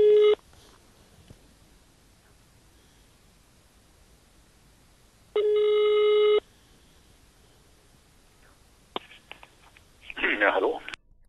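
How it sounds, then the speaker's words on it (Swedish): Telephone tones from an old phone call: a steady tone burst at the start, another about a second long midway, then a short burst of dialing or line noise near the end, separated by near silence. "Vi ringer till för detta folkpartistiske statsministern Ola Ullsten"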